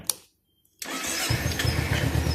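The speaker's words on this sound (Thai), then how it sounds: "เดี๋ยวครูติดเครื่อง" A Kawasaki Z300 motorcycle starts up close by: a brief click, a short hush, then the engine catches and settles into a steady, throbbing idle.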